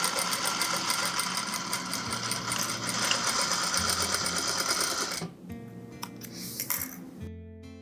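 A sewing machine running continuously while stitching a seam on a full-length dress lining, a close, even mechanical whir for several seconds that stops abruptly, followed by a few faint clicks and a brief restart.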